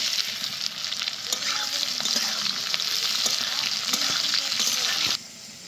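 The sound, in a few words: chopped onions frying in oil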